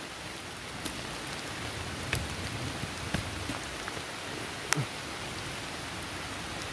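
Steady rain falls outdoors during a mushroom-digging trip, a dense unbroken hiss of drops throughout, with a few sharper individual spatters.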